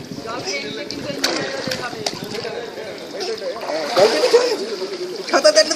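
Water splashes and churns around a small child, the choppy sloshing continuing throughout while voices talk and call over it nearby.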